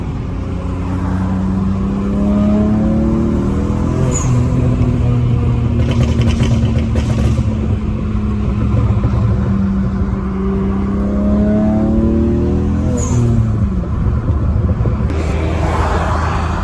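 A BMW M6 engine revs loudly nearby, climbing and falling through several rising and falling pulls over steady road roar, with no voices.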